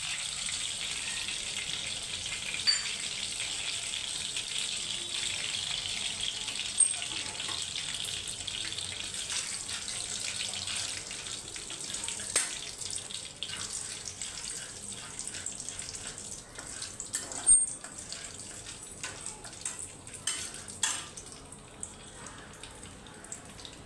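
Nigella seeds sizzle in hot oil with a steady, hissing fry throughout, a soft continuous crackle and a few small pops and clinks near the end, with no talking.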